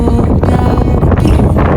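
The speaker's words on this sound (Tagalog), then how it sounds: "Lakas kasi talaga ng hangin, guys." Strong wind buffets the microphone on a low-tide rocky shore at Matawe, Dingalan, Aurora, a loud, continuous roar that gusts without pause.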